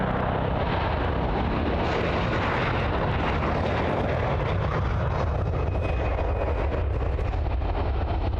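Jet airliner rolling along a taxiway at Sydney Airport, a steady broad engine roar with low rumble, fairly close and continuous throughout, no voices.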